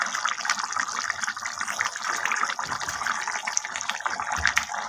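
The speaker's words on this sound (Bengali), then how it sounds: "এবার ফুটছে, এবার আমি এর মধ্যে মাছটা দিয়ে দেব।" Fish is added to a potato curry at a rolling boil, giving continuous bubbling and sizzling with faint splashes, close and steady throughout.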